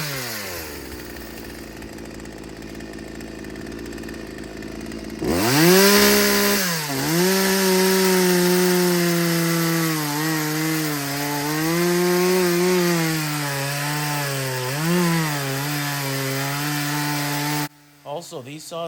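An old chainsaw with no bucking spike revs up after a quiet start and cuts through a log, its loud whine rising and dipping as it bogs and recovers, then cuts off near the end.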